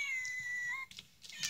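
A toy kitty cat gives off electronic meowing sounds, a high tonal mew followed by short chirpy cries, close and clear with no talking.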